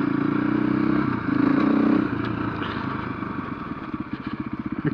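A Husqvarna FE501 motorcycle rides off road, its engine droning steadily and loud, then breaking into a fast, choppy pulsing as the throttle is worked, with clattering and scraping mixed in.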